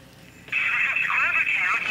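A telephone call gets dialed and a loud, steady ringback or line tone cuts in sharply, warbling and holding for well over a second, with a voice murmuring faintly underneath.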